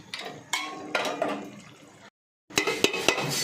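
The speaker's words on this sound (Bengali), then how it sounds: "এবারে আরেকটু মিনিট আমি ঢাকনা চাপা দিয়ে দিচ্ছি" A lid is set onto a cooking pot of taro stolons and river morola fish, giving short metallic clanks and scrapes of cookware, a brief silent gap, then more clattering contacts, no voices.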